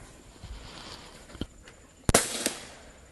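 A .25 caliber Umarex Gauntlet 2 airgun fires a sharp, close crack, with a few fainter ticks and thumps around it from an outdoor range.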